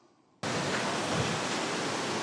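A waterfall crashes down with great force, bursting in abruptly after a brief quiet moment and then holding as a loud, steady, broadband roar with no voices over it.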